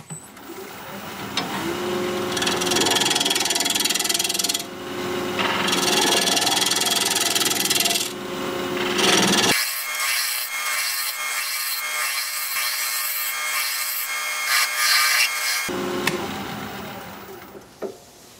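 Wood lathe spinning at 1200 RPM while a tool flattens a Siberian elm bowl blank, loud scraping and rubbing cuts in bursts over a steady motor hum, no voices.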